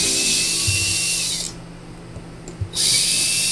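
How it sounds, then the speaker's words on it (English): A power drill backs out screws from an RV speaker, a loud close whine running steadily, pausing briefly in the middle, then starting again. "we'll start by removing the 4 screws that are holding it here."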